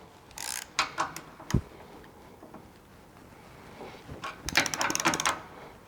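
Screws being tightened on the rear half doors of a Polaris Ranger 1000 crew, giving short bursts of quick ratcheting clicks, with a single knock in between, close and fairly quiet.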